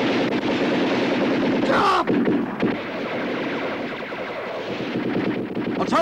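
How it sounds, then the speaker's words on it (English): Artillery and gunfire from a 1970 war film about the Battle of Crete, a dense, loud continuous barrage of blasts and rumbling with a sharp swell near the middle, no speech over it. "Artillery"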